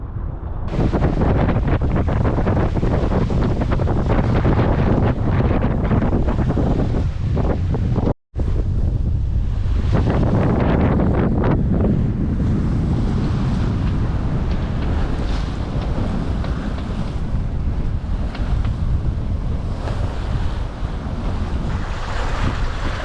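Strong wind at sea buffets the microphone aboard a sailing yacht making nearly seven knots toward the Greek islands from Cyprus, with a steady loud rush and surf washing beneath, briefly cutting out once.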